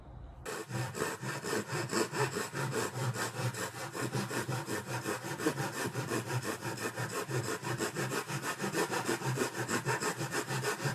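Steady rhythmic sawing as a blade cuts out a section of a boat, rasping back and forth in continuous quick strokes, close and loud with no talking.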